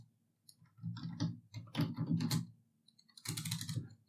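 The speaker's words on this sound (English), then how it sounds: "Just hit enter and press enter again" Quiet clicks of typing on a computer keyboard while setting up Ubuntu 20 on an Odroid N2, several short clusters of keystrokes with pauses and a final burst of presses.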